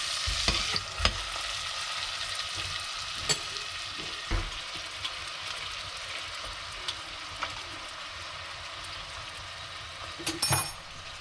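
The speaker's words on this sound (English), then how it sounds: "You throw the onion in. And we'll cook that until it softens" Onion softening in butter in a pan for risotto, a moderate steady sizzle broken by occasional spoon knocks and scrapes, with a clinking burst near the end; no one speaks.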